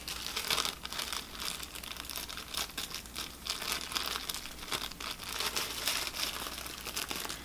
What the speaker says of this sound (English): And I can start to unwrap the plastic.